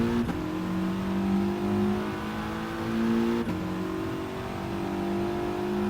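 A Group 4 race car in GT Sport at the rolling start on the Nürburgring GP circuit, engine revving hard and climbing through gears, with two sharp shifts, loud and close with no voices.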